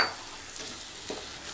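Masala sizzles and is stirred in hot oil for mutton kuzhambu, a faint, brief crackle with a few soft scraping strokes.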